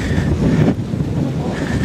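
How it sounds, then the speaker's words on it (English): Strong wind buffets the microphone on a glass beach in Napa, California, a loud, continuous low roar with gusty surges and no speech. "extreme windy conditions."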